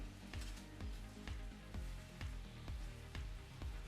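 Sugar caramelizing in a pan for a vegan apple crisp, giving a steady close sizzle with a regular beat of soft taps or stirring strokes roughly twice a second, with no voices.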